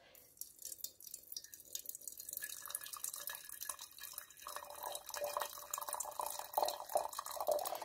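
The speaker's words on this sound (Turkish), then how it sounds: "Şimdi arkadaşlar bunun üzerine sıcak suyumuzu ilave ediyoruz." Hot water being poured over ingredients, a faint, steady trickling and dripping stream close by that grows slightly fuller as it continues, with no talk.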